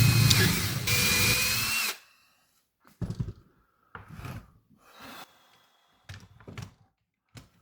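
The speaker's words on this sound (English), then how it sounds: "I drill the appropriate size hole in the center, 1 inch in." A power drill bores a hole into the center of a wood picket about an inch in. It gives a loud, steady whir for roughly two seconds, then cuts off, followed by scattered quieter knocks and handling sounds.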